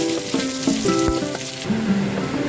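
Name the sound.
onion and garlic sizzling in hot mustard oil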